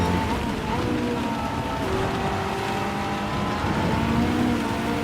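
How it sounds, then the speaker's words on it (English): Rain falls during a Gran Turismo 7 race at Le Mans, a steady wash of spray and patter mixed with the drone of race car engines, continuous and fairly loud. "Okay, more and more rain."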